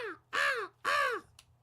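A voice imitates a crow with two long, drawn-out caws, close and clear, followed by a faint short sound.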